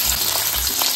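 Onion frying in hot oil, a loud, close, dense sizzle with a couple of low thumps, short and without speech.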